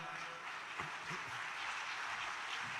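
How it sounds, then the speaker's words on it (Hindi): Steady broadband applause from an audience at a ceremony where residential flats are handed to workers, a dense even patter of many hands that holds quietly throughout with no voices. "तालियां"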